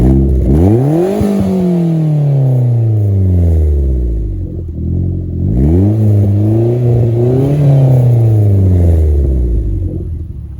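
Turbocharged Mazda Protege5 with a newly installed exhaust revving hard, two loud rising-and-falling engine sweeps separated by a brief dip, close and alone with no talking.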